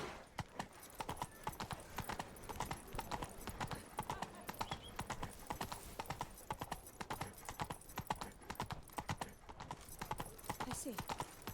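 A horse's hooves clip-clop in steady rhythm as it walks in The Witcher 3: Blood and Wine, close and clear over quiet ambience.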